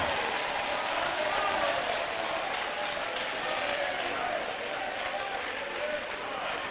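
A church congregation shouting praise and applauding, a dense, steady wash of crowd cheering and clapping at moderate loudness with no single voice standing out.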